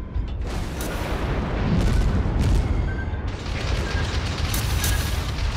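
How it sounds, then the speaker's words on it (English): Torpedo hits and explosions in the naval combat game World of Warships, deep rumbling booms that swell and fade over a few seconds amid game noise, no voices. "Here comes some torpedoes."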